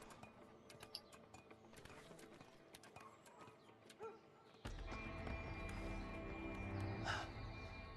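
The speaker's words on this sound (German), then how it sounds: "There are the horses." Horses in the video game A Way Out, with hooves clip-clopping and a single neigh rising above a busy outdoor game soundscape, faint at first and louder after ambient noise swells midway.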